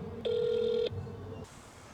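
An outgoing phone call ringing unanswered, one steady ringback tone lasting just over half a second, followed by a quieter pause and low background hum.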